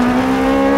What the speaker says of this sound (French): On passe en 4 pour accélérer un petit peu mieux